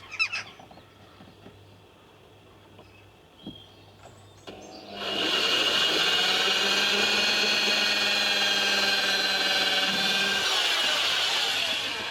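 In a campervan build, a power drill drives screws into wood with a loud, sustained whirring buzz that starts abruptly after several seconds of quiet knocks and handling noises, running steadily to the end.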